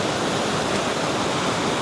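The River Valency at Boscastle rushing along, a loud, dense, unbroken roar of flowing water close by, with no voices.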